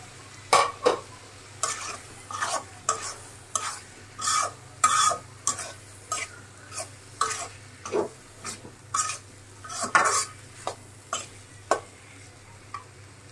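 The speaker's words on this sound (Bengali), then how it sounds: "আলু আর টমেটো এইভাবে কেটে নিয়েছি, এটা দিয়ে দিলাম" Repeated scraping and stirring strokes as cut potatoes and tomatoes fry in a pan, with a soft sizzle underneath, an uneven rhythm of bursts, close by and moderately loud.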